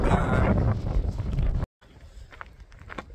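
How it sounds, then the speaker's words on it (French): Icy wind at about 1 degree buffets the microphone outdoors on an Albanian hillside, a loud continuous rumble for over a second before a sudden cut, then fainter gusts and rustling. "il y a un peu de vent glacial ce matin-là, à 1 degré"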